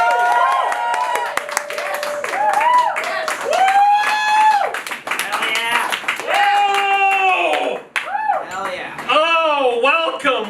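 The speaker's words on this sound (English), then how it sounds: "Y'all give a very warm round of applause to Scott Gordon" Comedy club crowd gives a warm welcome to a comedian, clapping and cheering loudly with whoops and shouts from the audience throughout.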